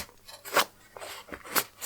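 Scissors snip through string twice with crisp, bright cuts about a second apart, with quieter rustling between them, close up.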